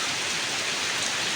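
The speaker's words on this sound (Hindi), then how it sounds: "बहुत ज़्यादा बारिश हो रही है, बहुत तेज़ बारिश" Heavy rain pours steadily in Lahore, a dense, loud, continuous hiss of water with no break and no voices.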